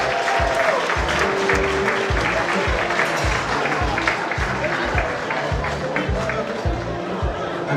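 Sustained audience applause fills the room at the CAHN 2019 award gala, a dense, even wash of many hands clapping that holds steady throughout.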